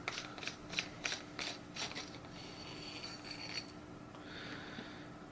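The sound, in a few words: unscrewing the bottom of a lightsaber hilt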